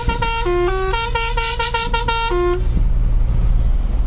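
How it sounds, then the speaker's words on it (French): Loud, close truck horn blasts in a rapid series of short honks with shifting pitches, tested on a country road, then a rushing road rumble as the truck drives on. "Bon, on va tester le klaxon."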